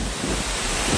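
Steady, dense rush of falling water and spray at Coban Rondo waterfall in Pujon, Malang, loud and close with broadband roar and slight wind buffeting.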